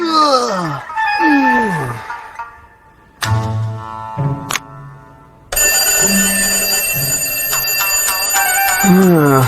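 Electronic alarm tones ring in bursts and sweeping chirps, then settle into a loud sustained beeping ring that continues to the end.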